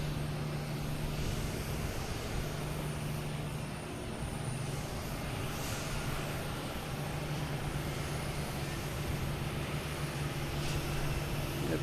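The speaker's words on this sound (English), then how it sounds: "Next to arrives American Airlines coming in from Philadelphia at A320." An American Airlines Airbus A320 jet arriving at Boston Logan Airport gives off a steady broad roar throughout, distant to moderate in loudness, with a low droning hum underneath and no voices.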